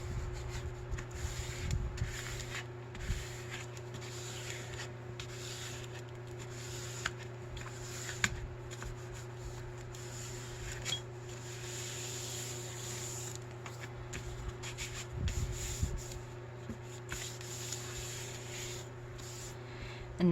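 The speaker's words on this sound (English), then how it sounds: "I'm really gonna smush that glue out now" Paper being rubbed down by hand to squeeze out glue while making sewn-in envelope pockets, a soft continuous scuffing and rubbing texture with brief louder swipes, close and quiet with no talking.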